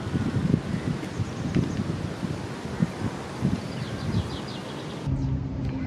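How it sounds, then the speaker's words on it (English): Steady wind buffets the microphone, a rough rumbling roar that gusts and rustles throughout, easing slightly near the end. "Sorry about the wind."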